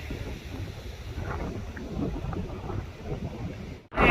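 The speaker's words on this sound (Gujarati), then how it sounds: "જોરદાર પવન સાથે છૂટો છવાયો વરસાદ" Gusts of wind buffet the microphone in a steady low rush during a storm with scattered rain in Kutch, ending in a sharp dropout and a burst of noise.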